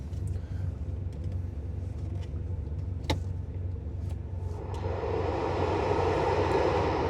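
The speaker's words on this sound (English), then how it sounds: "That fan blows nice and strong for your defroster" The defroster fan of a 1983 Porsche 911SC 3.0L ramps up to a steady, strong whooshing airflow inside the cabin, preceded by quieter idling and a single click.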